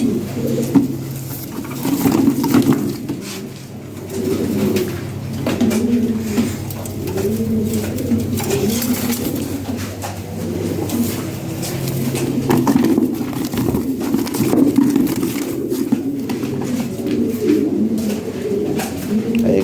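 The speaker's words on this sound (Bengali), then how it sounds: "অনেক সুন্দর কবুতর। হ্যাঁ অ্যাক্টিভ কবুতর।" Fancy pigeons, a mix of Lahori and Sirazi birds kept for sale, coo steadily and repeatedly at close range, their low rolling calls overlapping continuously with faint background noise.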